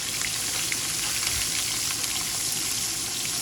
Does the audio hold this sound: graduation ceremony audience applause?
no